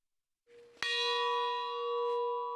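A single memorial church bell strikes once with a sharp attack, then its ringing tone sustains and slowly decays, heard clearly alone at a ceremony honouring those killed defending Donetsk airport.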